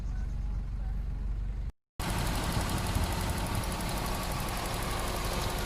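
The 1,500 cc 5A engine of a 1997 Toyota Corolla 1.5 GXi idles steadily and close, with a brief cut before the even hum resumes.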